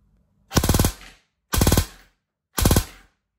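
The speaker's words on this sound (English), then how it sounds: "And then we switch to full auto, and then we'll see how quick the fire rate is." A KWA VM4 Ronin T6 airsoft gun firing full auto in three short bursts, each a rapid rattling string of shots lasting about half a second, loud and close with silence between.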